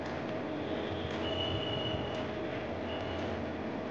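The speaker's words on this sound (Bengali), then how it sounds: "এবার আমি ট্রেনে করে চললাম আমার বাড়ির উদ্দেশ্যে" Riding inside a train produces a low, continuous rumble of the carriage, with thin metallic wheel squeals rising briefly over the steady noise.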